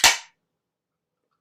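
Can of Voodoo Ranger hard tea cracked open with a single sharp, close pop and hiss that cuts off quickly into silence.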